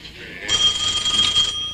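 A telephone rings in a house with one loud, sustained electronic trill lasting about a second, then a quieter tail, close and alone without talk.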